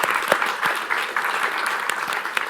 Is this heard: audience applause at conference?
yes